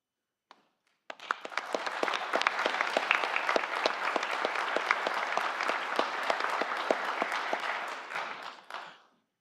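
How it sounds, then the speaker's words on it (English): An assembly audience claps for veterans and their families at a Veterans Day event. The applause starts abruptly, holds steady and moderately loud with distinct individual claps, then tapers off near the end. "Let's have another round of applause for all of our veterans and their families."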